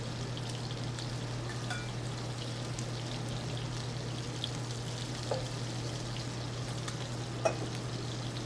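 Shrimp fry in a little oil in a hot pan, giving a soft, steady sizzle with faint crackles and pops throughout and no talk.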